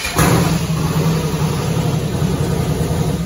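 A twin-turbo street car engine fires up and settles into a loud, steady, rumbling idle close by, with a low throbbing drone that holds for several seconds without talk.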